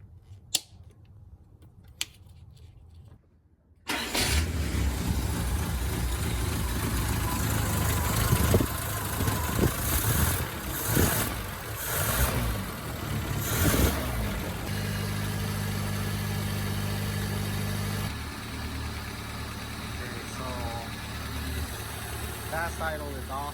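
A 1976 Toyota Celica engine idles steadily with a low, even hum after a brief quiet start, with some clatter and talking over it.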